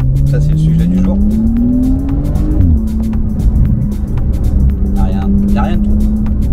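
A Porsche 992 Carrera 4S with a Stage 2 tune and reprogrammed ECU accelerates hard, its engine note rising steadily and then dropping briefly at a gear change before climbing again, loud and close with occasional speech over it.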